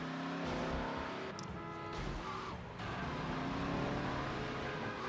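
A car engine drones steadily while driving in the Grand Theft Auto: Liberty City Stories video game, its pitch shifting slightly as it revs, loud and continuous for the whole stretch.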